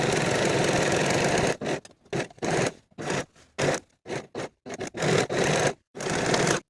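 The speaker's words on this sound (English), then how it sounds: "Now I'm going to take this to my serger and finish the outer edges of the facing all the way" A serger runs in short bursts, finishing the outer edges of a neckline facing on a boxy top, with whirring stitching broken by pauses and several quick stop-start runs, no talk.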